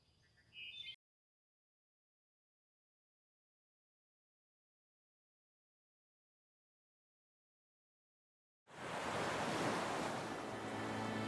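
Sea surf and wind wash against a rock by an open sea, rising suddenly after a long stretch of silence and rolling on as a loud, steady roar to the end.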